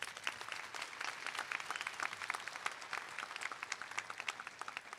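Steady, dense applause from a large crowd at the EPIC Charter Schools 2021 commencement in Oklahoma City, heard at a distance and fairly faint, with many overlapping claps and no clear speech.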